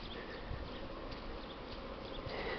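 Dense, continuous buzzing of many honey bees flying around outdoors near hives on a mild +15°C day, a close, steady drone with no voices.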